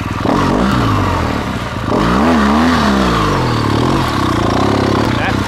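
A motorcycle pulling away in first gear, its engine loud and close, the revs dipping then swelling and rising in pitch as it moves off, with a steady throaty drone underneath.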